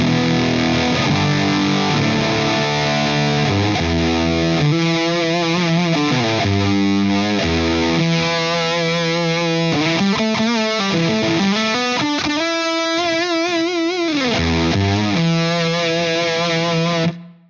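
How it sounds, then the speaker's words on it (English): An electric guitar played through a Wampler Cryptid Fuzz pedal, a thick, saturated fuzz tone with sustained chords and bending single notes ringing continuously and loudly for the whole stretch, then cutting off abruptly at the end. "so let's engage the Cryptid Fuzz"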